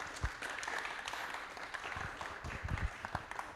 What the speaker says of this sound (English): can we give everyone a quick welcoming round of applause